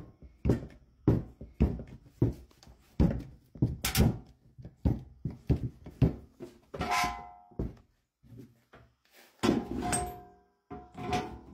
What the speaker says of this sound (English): Then you close this valve and pump the handle. And watch it just cut right through.